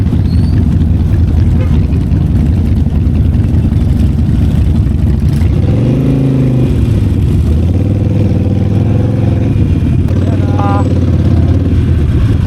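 A Harley-Davidson Sportster Nightster rides through heavy rain and congested traffic on the road up to Puncak, Bogor, its engine rumble rising and falling partway through under constant loud wind and rain roar.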